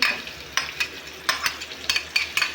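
Local garlic frying in hot oil with five-spice gives a soft sizzle, broken by quick, irregular scraping and stirring strokes from a utensil in the pan.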